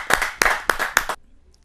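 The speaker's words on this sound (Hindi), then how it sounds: "जरा जोरदार तालियों के साथ हम उनका स्वागत" At a Hindi poetry gathering welcoming a woman poet, four sharp, evenly spaced claps ring out close and loud, then stop abruptly into near silence.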